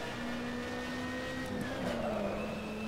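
A DTM race car in Assetto Corsa at Spielberg drives toward the finish, its engine a steady, sustained drone with a slight pitch change partway through. It is heard alone with no voices.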